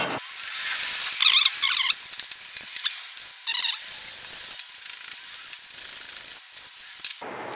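A hand file scrapes across the brake caliper mounting hardware on a 2007 Chevy Silverado. The rasping strokes are close and steady, with a few shrill squeaks mixed in.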